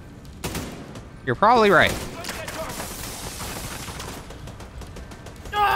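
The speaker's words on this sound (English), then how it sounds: "There's some dude over here still shooting us in the back" Bursts of automatic gunfire from a Tom Clancy's The Division 2 firefight, a sharp volley crackling for a moment among steady game noise, with players' voices talking over it.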